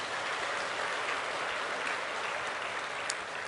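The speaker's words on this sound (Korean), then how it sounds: "그 하나님 아버지 앞에 우리 감사하다고 박수 한번 해요" Many people in a church congregation clap together in a steady, even roar of applause that holds at the same level throughout, with no voices above it.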